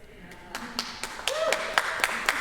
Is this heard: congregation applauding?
yes